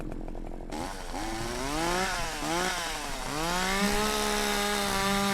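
A chainsaw in a horror video game revs and whines, its engine pitch sweeping up and down in repeated surges, steady and fairly loud with no talk over it.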